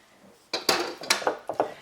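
A spatula works creamed honey and oil in a bowl, making several sharp clinks and scrapes against the bowl in quick succession, close and clear, with no talk.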